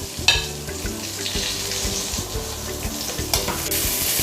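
Onions with green chillies, garlic and ginger sauté in a pan for kofta curry, a close, steady crackling sizzle with a few sharp spits and stirring clatters, no talking.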